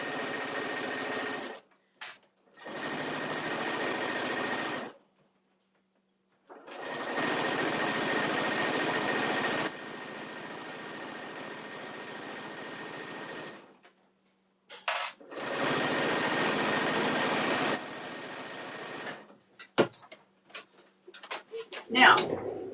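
A sewing machine stitches down the side of a full-size top-handle tote in several long, steady runs separated by pauses, close and loud, with a scattering of small clicks and handling noises near the end.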